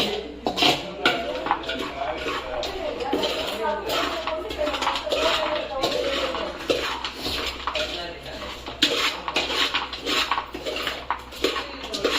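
Jackfruit Manchurian ingredients are mixed in a bowl, with repeated clinking and scraping of a spoon against the dish, close and irregular, under people talking.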